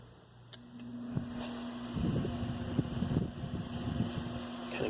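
A small desk fan with an adjustable stand switches on and settles into a steady low hum with a soft rush of air, close by, with a few faint clicks and no talking.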